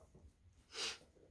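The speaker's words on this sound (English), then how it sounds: "I have to blow my nose" A single sharp, hissy nose blow lasting about a quarter second, close and fairly loud against a quiet background.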